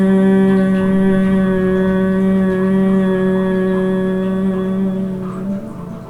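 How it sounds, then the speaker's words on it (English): A single steady low hum from a human voice, sustained and resonant for several seconds, fading slightly at the end. "And we exhale and hum."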